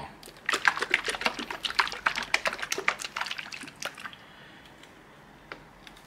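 A bottle of ultra-high-precision light-cure 3D printing resin is shaken by hand, producing about four seconds of rapid, close liquid sloshing and plastic rattling that then stops, leaving quiet room tone with a faint tap.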